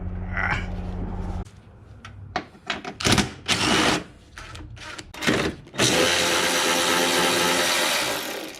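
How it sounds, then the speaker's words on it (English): A regular ratchet removing bolts during removal of a Toyota 4.7L V8 engine: irregular clicking and metallic knocks, then a steady, loud mechanical whir, close up with no talking. "You can use regular ratchets. Okay, soon you're taking all 4 bolts out."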